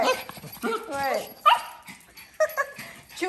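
Small Yorkie dogs yip, bark and whimper in a busy room, with high-pitched whines and sharp yaps mixed among people talking over them.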